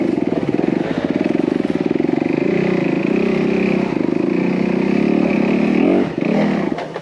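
A new Honda CRF250R dirt bike engine runs loud and close while being ridden, a steady buzzing drone that holds throughout with slight rises and falls in revs and a brief dip near the end.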